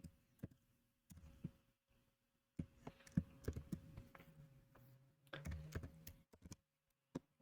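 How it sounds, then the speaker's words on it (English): Keystrokes on a computer keyboard come in irregular bursts, close and fairly quiet, with clusters of rapid taps separated by short pauses. "Let's type this right."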